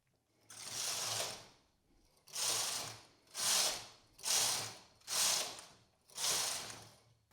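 A knitting machine carriage knits six rows, with six rhythmic back-and-forth sweeps that each give a smooth rattling rush, close and evenly spaced, with no talk.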